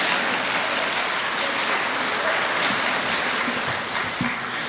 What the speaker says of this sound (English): I want you to take a moment and clap for yourself.